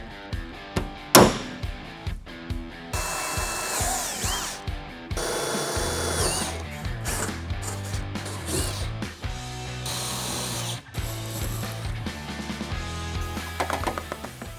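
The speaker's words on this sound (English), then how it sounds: "So we're going to go ahead, drill our 2 holes out" A power drill whirs in repeated bursts drilling holes into a Toyota Tacoma's fiberglass truck bed, with ratcheting clicks at the start, then sustained high-pitched drilling that revs up and down.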